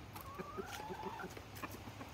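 Backyard chickens, including a Barred Rock and an Americana, cluck softly in short scattered calls with a faint drawn-out vocalization, quiet and somewhat distant with no talk.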